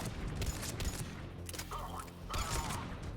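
Dense, continuous gunfire from Mass Effect 3 combat, rapid bursts packed closely together at a steady loud level with brief mechanical clatter mixed in; no talk over it.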